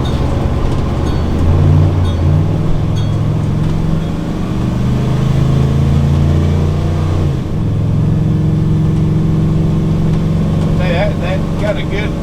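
Steady, beefy drone of a 2005 Fleetwood Pace Arrow 36D Class A motorhome's gas engine cruising up a highway, with continuous road and wind noise and shifting engine tone as it holds speed.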